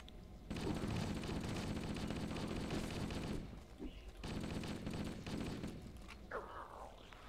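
Gunfire in Halo: Combat Evolved: long sustained automatic bursts rattle continuously and stop abruptly twice. A short squeaky in-game sound comes near the end. The firing is loud and steady with no talking.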